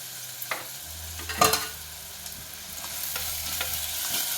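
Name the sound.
garlic frying in pan with salt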